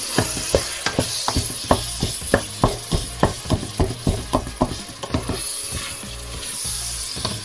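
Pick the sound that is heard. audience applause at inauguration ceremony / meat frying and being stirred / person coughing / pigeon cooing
meat frying and being stirred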